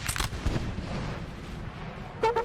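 Skirmisher infantry fire a musket volley in Napoleonic Total War 3, a few sharp cracks up front followed by a rolling battle din, with another burst of shots near the end.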